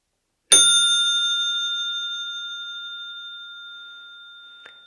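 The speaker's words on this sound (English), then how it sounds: "That's why you usually find the basic bells whenever you purchase a bike these days" A basic bicycle bell, the standard kind sold with new bikes, gives one bright strike that rings on with a long, pure, slowly fading metallic tone, followed by a faint small tap near the end.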